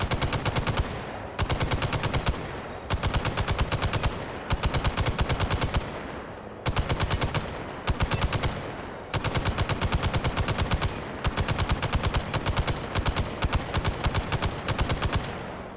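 An M60 machine gun in the VR game Hot Dogs, Horseshoes & Hand Grenades firing long, rapid sustained bursts from a box magazine, loud and close, with brief pauses between each volley.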